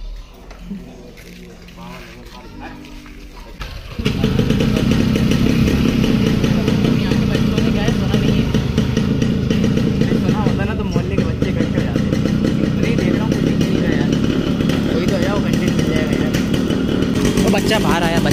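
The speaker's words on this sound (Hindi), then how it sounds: "बाइक को आवाज आ रही है ना उसकी" A Yamaha RX 100 motorcycle engine starts up after a few quiet seconds, then runs loud and close with a rough, steady idle and some revving through its exhaust.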